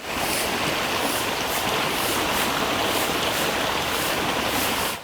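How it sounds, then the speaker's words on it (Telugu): Lake water flows in a steady, continuous rush in a nature valley at Pyramid Valley International, Bengaluru, heard close and fairly loud throughout with no voices. "ఎప్పుడు ఈ వాటర్ సౌండ్ వినిపిస్తూ ఉంటుంది."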